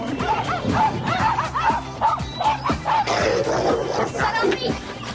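Small dogs yipping, whimpering and barking in quick, excited bursts while playing with a young lion cub, loud and close, with a voice speaking over parts of it.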